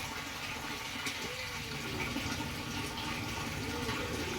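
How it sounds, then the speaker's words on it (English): Water drains through an aquaponics system after a 12-volt Raspberry Pi-controlled drain switches on, making a quiet, continuous trickling and gurgling flow with no voices. "So this just clicked on. See, it started draining."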